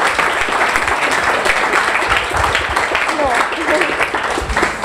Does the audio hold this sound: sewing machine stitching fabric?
no